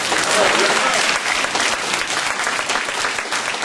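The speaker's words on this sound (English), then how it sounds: "Let's give a warm hand clap for God." An audience at a parent leadership conference applauds, with dense, loud clapping from many hands filling the room steadily throughout.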